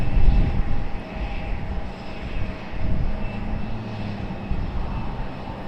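A fixed-wing airplane at Raleigh-Durham International Airport drones steadily at a moderate distance, its engine noise rising and falling gently, with wind in the background and no talk.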